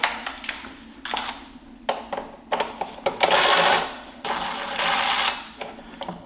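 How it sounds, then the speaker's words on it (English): A T20 Torx screw being backed out of an intake sensor on a BMW B58 engine, a run of small clicking and ratcheting ticks with brief metallic scrapes and rustling, close by. "This can be removed with the, this is a T20 Torx. So we'll take that out"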